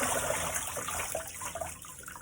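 Tap water running steadily into a kitchen sink as greens are washed, a soft continuous hiss with faint splashing close by and no talk.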